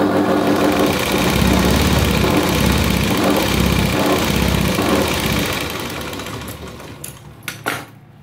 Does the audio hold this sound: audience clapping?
no